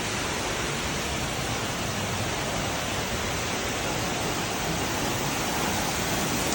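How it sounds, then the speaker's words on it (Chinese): Longgang waterfall near Sun Moon Lake pours in a constant, broad rushing roar, steady and enveloping from start to finish with no voices. "所以我们去这个是龙岗瀑布"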